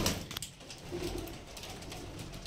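Soft, low pigeon cooing near the start, faint against a background hiss and scattered rustling, with no talking.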